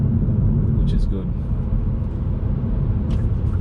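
A 2019 Hyundai Veloster Turbo gives a steady low engine and road rumble while driving, with faint wind noise, continuous under a person talking.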